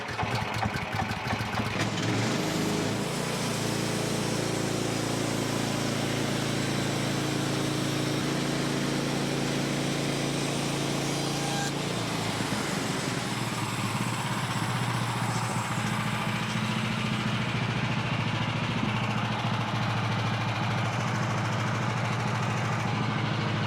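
Small engine on a Woodland Mills HM126 sawmill sputters to life and settles into a steady, close idle that runs continuously, its pitch shifting slightly midway, with no talking.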